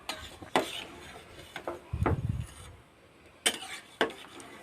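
Anguli pitha, an Assamese rice dumpling dish, gently stirred in a pan: sparse utensil clinks and scrapes, a soft sizzling rub in the middle, then a few more sharp taps, close and fairly quiet.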